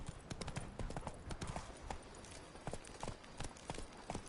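Roach, a horse in The Witcher 3: Blood and Wine, gallops with quick, rhythmic hoofbeats clopping over the ground at a steady pace under faint background ambience.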